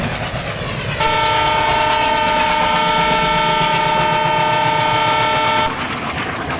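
A diesel train in the Indian Railways Train Simulator game sounds a long, loud, steady horn for several seconds over a rumbling rail background, then the horn cuts off abruptly.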